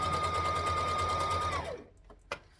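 A sewing machine stitching along the edge of a skirt runs at a steady, fast whirr for about a second and a half, then stops, followed by a couple of small handling clicks.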